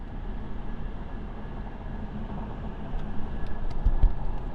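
A Mercedes SL600 on a test drive after repair work, with a steady low road rumble and engine drone from inside the car, swelling slightly near the end, with no talking.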